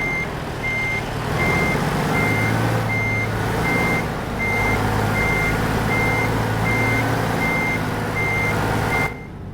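Steady, evenly spaced reversing beeps ring out from a semi truck backing up in American Truck Simulator, repeating for about nine seconds over a loud, constant engine rumble before cutting off.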